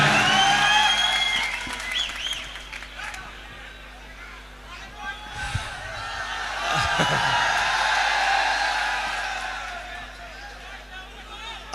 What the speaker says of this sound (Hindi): जोरदार तालियों से उनका इस्तकबाल की।